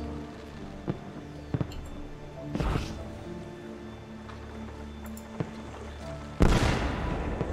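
Pistol fire in Assassin's Creed 2, a few sharp isolated reports spaced over several seconds against a quiet ambient hum, with one louder burst near the end.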